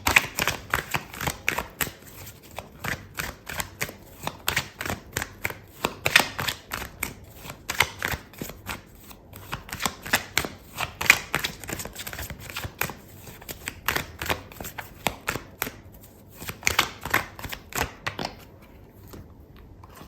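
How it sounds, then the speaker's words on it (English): Tarot cards are shuffled and drawn from the deck, a close, steady run of dense papery riffles and flicks that carries on for about twenty seconds with no talking over it. "Okay, so I'm going to pull out another card for you."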